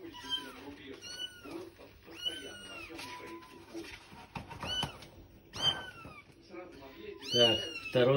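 Two pure white kittens meow again and again, high and thin, close by but fairly quiet, their cries coming in short bursts with soft rustling between.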